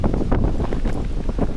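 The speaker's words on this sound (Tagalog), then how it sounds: "Kasi sobrang lakas ng hangin." Strong wind at a campsite buffets the microphone in a loud, continuous roar with gusty rumbling throughout.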